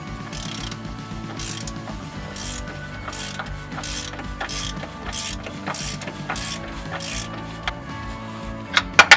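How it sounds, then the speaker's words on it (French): A socket wrench ratchets steadily and loudly, close up, as two screws are tightened on a Peugeot 206 suspension arm, ending in a few sharp metallic clicks. "Bloquez les deux vis avec la clé à pipe."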